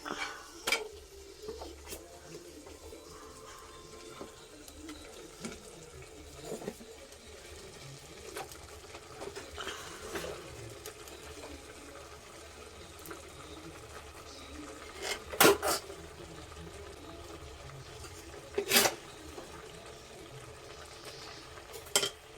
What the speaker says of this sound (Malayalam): പിന്നെ ഇതൊന്ന് നന്നായിട്ടൊന്ന് ഇളക്കിയെടുക്കാം